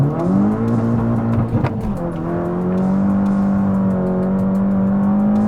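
A car fitted with APR ignition coils launches hard from a standstill on cold tires with traction control off, its engine revving loud and steady with a brief rough stutter of wheelspin before pulling through.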